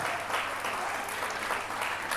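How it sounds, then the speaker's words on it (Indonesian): A lecture audience gives a guest speaker steady, fairly soft applause, a continuous wash of clapping heard from a moderate distance. "Tepuk tangan dulu buat Pak Widi."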